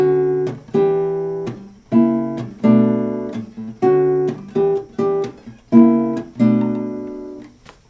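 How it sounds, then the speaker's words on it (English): An electric guitar strums a series of rich jazz seventh chords one at a time, each ringing out and fading before the next. "Number 27, there are some jazz 7th chords."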